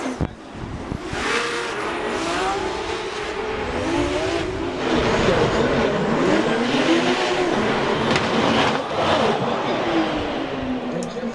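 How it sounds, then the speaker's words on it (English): Drift car engine and exhaust at a Formula DRIFT Pro race in Seattle, loud sustained revving and pitch swings from the motor, with tire noise and faint commentary voices mixed in. "let's listen up and listen to that exhaust note"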